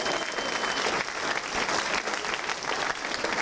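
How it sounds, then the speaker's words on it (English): A comedy audience bursts into a full round of applause after singing together, dense continuous clapping filling the room at an even, loud level from start to finish. "Give yourself a round of applause."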